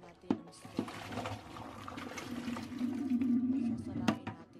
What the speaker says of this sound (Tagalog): Sasalain natin yung ating tubig, or tatanggalin natin yung tubig sa ating pasta